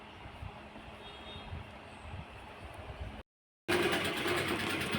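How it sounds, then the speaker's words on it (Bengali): A sewing machine stitches a hem on a churidar, giving a steady mechanical whir and rapid needle chatter. It cuts out briefly and then resumes louder. "আমরা মেশিনে একবারে চাপ দিয়ে নেব"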